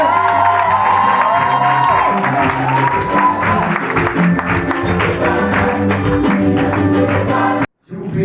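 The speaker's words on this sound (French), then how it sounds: "Veuillez applaudir, s'il vous plaît." Wedding guests at a Gabonese civil marriage applauding and cheering loudly, with whoops, shouts and music-like tones mixed into the clapping, which stops abruptly near the end before a brief resumption.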